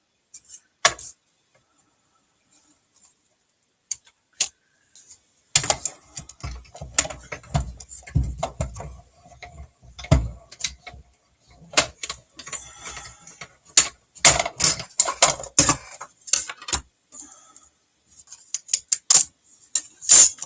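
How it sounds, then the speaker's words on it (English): A small hand-cranked cut and emboss machine clicks and ratchets as cutting plates are rolled through, giving irregular bursts of close mechanical clatter separated by short pauses, with no talking. "So I'm using my mini cut and emboss machine, and I'm using plate 1 and then plate 2 and another plate 2."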